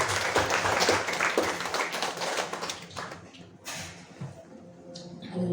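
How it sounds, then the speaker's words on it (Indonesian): A church congregation gives a lively round of applause during a Saturday worship service, dense clapping that is loud at first and then thins out into scattered claps toward the end. "Kita berikan tepuk tangan yang paling meriah"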